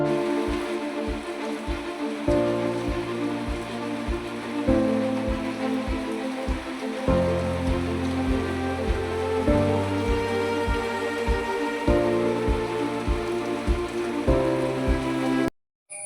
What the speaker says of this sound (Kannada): ಬಟ್ ಇವತ್ತು ತುಂಬ ಮಳೆ ಬರ್ತಿದೆ.